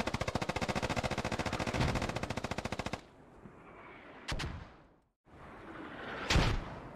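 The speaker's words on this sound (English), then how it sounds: "friendly is getting surrounded by mortar barrages" Video game battle in the Scarlet Storm campaign: a loud rapid burst of automatic gunfire for about three seconds, then quieter rumbling and two separate sharp blasts like distant mortar impacts.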